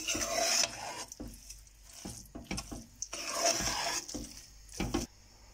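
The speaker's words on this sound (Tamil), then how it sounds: "இப்போ இதை வந்து நல்லா மசிச்சு விட்டுக்கணும்" Soft, close scraping and squishing strokes come in short repeated bursts, like a spoon mashing pressure-cooked rice and lentils in a pot, with brief pauses between.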